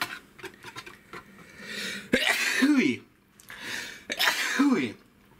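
Two sneezes set off by spices while preparing a Finnish Christmas potato casserole base with onions and anchovies, each a sharp intake followed by a loud burst, spaced about two seconds apart over faint kitchen noise.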